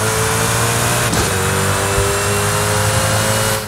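Sustained, loud engine drone of a very fast car in the racing game Forza Horizon 5, holding a steady high rev with a brief dip near the middle, constant and close with no talking.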